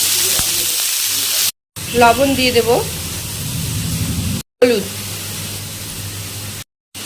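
Chopped onion frying in oil with black cumin seeds and dried chili makes a continuous close sizzle, while someone talks over it in short phrases with brief pauses between them.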